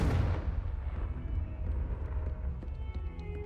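A Confringo blasting spell explodes in the game Hogwarts Legacy: one sharp burst at the start that quickly fades into a low rumbling tail, fairly quiet overall.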